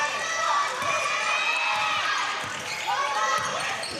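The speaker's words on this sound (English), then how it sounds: "Crowd's getting louder." Crowd noise swelling in a gym during a girls' high school basketball game between the Bulldogs and the Troy Trojans, with sneakers squeaking and a ball bouncing under a commentator's steady voice.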